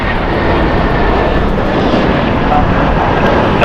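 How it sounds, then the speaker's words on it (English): A United Airlines Boeing 757-300 jet roars steadily and loudly at LAX airport, a continuous broadband engine rumble holding close throughout. "United Airlines Flight 1224 going to Honolulu. It's Boeing 757-300, 21 years old."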